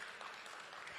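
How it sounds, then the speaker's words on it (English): Audience applause fills a startup competition grand finale, a steady, dense wash of clapping that holds evenly for about a second. "Let's give them a big round of applause again, shall we?"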